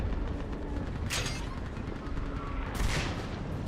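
Gunfire in the sci-fi shooter game Mass Effect: Legendary Edition, a steady rumbling barrage with two bursts of sharper, crackling shots standing out from a dense, continuous combat background.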